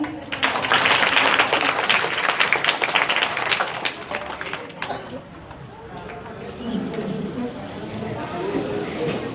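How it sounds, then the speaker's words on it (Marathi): A crowd claps for a teacher at a Zilla Parishad primary school farewell, loud dense applause filling the first half before fading under nearby talking voices. "टाळ्या वाजवा एकदा मॅडम साठी"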